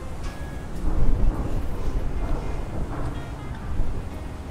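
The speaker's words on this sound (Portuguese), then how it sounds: "O vento vai balançando a gente aqui" Strong wind buffets a drone flying over a building construction site, a loud, continuous low roar that swells in gusts, with no voices.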